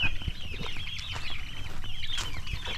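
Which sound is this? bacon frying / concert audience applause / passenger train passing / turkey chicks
turkey chicks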